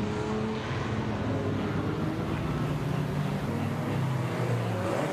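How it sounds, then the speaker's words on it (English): Historic car lapping a race circuit at a January track day, its engine droning steadily at a moderate distance with a continuous rumble and no voices. "Looks like an interesting vehicle being driven around this circuit."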